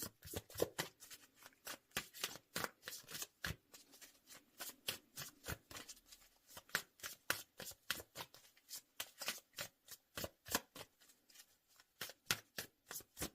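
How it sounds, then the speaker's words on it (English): A tarot deck being shuffled by hand, with rapid, continuous riffling and slapping of cards in uneven bursts, close and fairly quiet, with no talking. "deck is well shuffled"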